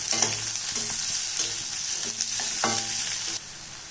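Onion and garlic sautéing in oil for a Tamil brinjal curry, a steady close sizzle broken by repeated scrapes and clatters of stirring in the pan.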